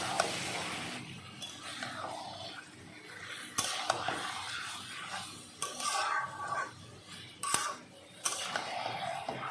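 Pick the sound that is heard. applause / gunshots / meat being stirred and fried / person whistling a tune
meat being stirred and fried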